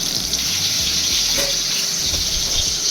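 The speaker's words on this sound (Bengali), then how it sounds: "পটলগুলো এক এক করে তেলে ছেড়ে দিলাম। লাল করে ভেজে তুলে নিলাম সবকটি পটল।" Slices of pointed gourd (potol) sizzle as they fry in hot oil in a kadai, a steady bright crackle close to the pan throughout.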